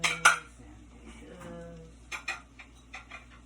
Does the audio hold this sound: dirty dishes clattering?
yes